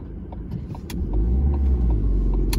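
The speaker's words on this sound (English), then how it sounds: "The truck is coming, so I have to wait for this." A truck passes at a road junction, its engine rumble rising from a low hum to a heavy roar close by over a couple of seconds, with no talk.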